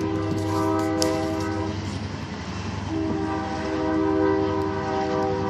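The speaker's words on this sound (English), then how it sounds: "There's a train coming!" A train passes nearby, its horn sounding in sustained tones twice over a rolling rumble of cars.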